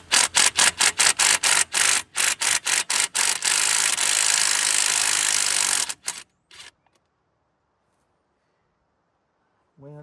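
A Ryobi power tool works loose an old corroded spark plug on an AMC Rambler abandoned since 1983, giving loud close bursts of rapid buzzing in quick on-off pulses, then a sustained run that cuts off into near silence.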